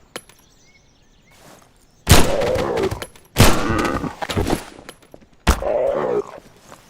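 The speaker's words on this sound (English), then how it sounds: "see if you shoot them in the arm. Or in the leg." Video game gunfire strikes zombies in three separate bursts, each a loud, sharp crack followed by a short rattling tail, set apart by quieter gaps with faint background ambience.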